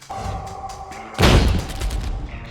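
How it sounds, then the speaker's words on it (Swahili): During a film action scene on a rooftop, a steady low hum runs briefly, then one heavy gunshot-like boom hits and rumbles away. "aliwaangamiza haraka kwa risasi sahihi"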